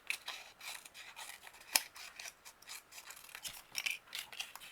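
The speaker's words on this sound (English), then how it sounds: "Cut it in half." Scissors snipping through paper during junk journal crafting, a run of quiet, close, rhythmic crisp cuts with one sharper snip partway through.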